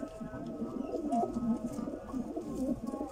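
Teddy and golden pigeons on a rooftop give low, throaty coos in overlapping rolling phrases, close by and fairly loud, with no talking.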